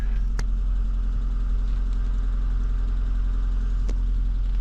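A 1988 Suzuki SJ413 Samurai sits idling, its engine giving a steady low rumble with a constant hum, close and loud, broken by a couple of faint clicks.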